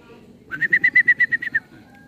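A quick run of about ten evenly spaced whistled notes from a racing pigeon, close and clear against a low background murmur, at a pigeon race arrival.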